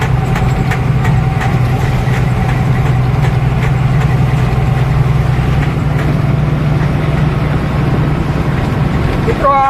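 A car engine hums steadily while driving at around 40, a constant low drone with road rumble filling the whole stretch and no clear change in pace.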